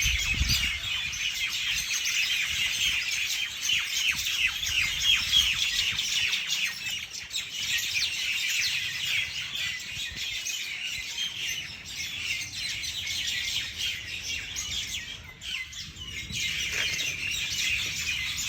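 Many birds chirp and tweet continuously in the evening, a busy outdoor chorus of overlapping calls at moderate distance, with no one speaking.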